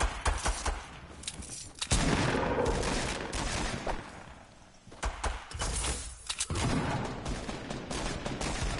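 Rapid bursts of gunfire and dense fusillades from a console shooter video game, loud and continuous with brief lulls, layered shots overlapping throughout.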